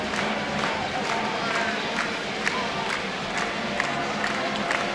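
Fans at a high school JV boys basketball game stand and clap, a dense, continuous crowd din with scattered sharp claps and shouts throughout, no talk over it.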